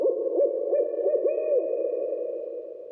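Owl hoots sound as a sound effect in a ghost-story audiobook, a soft, low, wavering series of calls, clear and alone.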